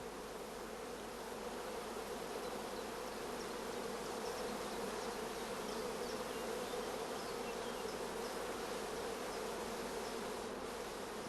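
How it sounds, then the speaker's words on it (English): A dense, continuous hum of many honeybees crowding thickly over queen cells on a rearing frame, a steady close buzz with no voices. "Bees crowding thickly around the cells is a first positive sign of good acceptance."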